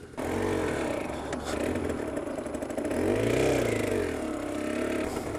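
Aprilia RS125 motorcycle engine idling and revving as the rider works the clutch, a steady close mechanical drone that swells in two louder rises, with no talk over it.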